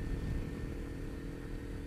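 A Kawasaki Ninja motorcycle cruises at high speed on the road, around 150 km/h, its engine a steady, fairly faint drone blended with rushing wind, with no voices.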